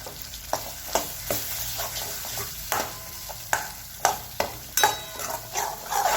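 Masala of tomato, ginger-garlic-coriander paste and curry leaves being sautéed for stuffed brinjal curry, a close steady frying hiss broken by repeated sharp spatula scrapes and knocks against the pan.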